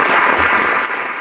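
Loud, dense crowd applause, a close wash of many hands clapping that stays strong before easing off slightly toward the end.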